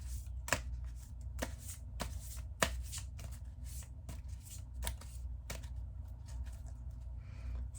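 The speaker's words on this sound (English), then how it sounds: "I'm going to give it one more shuffle." Tarot cards being shuffled by hand in a quiet ASMR setting, with soft riffling and sharp slaps of the deck falling together repeated every second or so, close and crisp with no talking.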